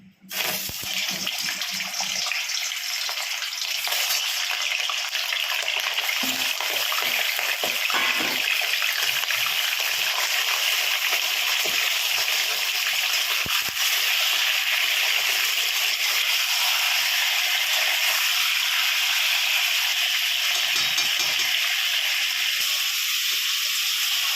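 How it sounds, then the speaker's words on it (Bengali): Chicken pieces for kadai chicken sizzle in hot oil in a home kitchen, a loud, continuous frying hiss that starts abruptly and holds steady close to the microphone throughout. "এখন মাংসগুলো দিয়ে দেবো তেলের মধ্যে।"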